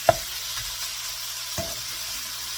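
Cabbage cooks down in a covered pan with a soft continuous sizzle, marked by a couple of light knocks of a lid or utensil.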